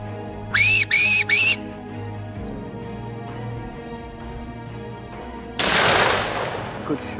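A single loud gunshot cracks out during a winter fox hunt, its sharp report trailing off in a decaying echo, preceded by three quick rising whistle calls from a fox whistle.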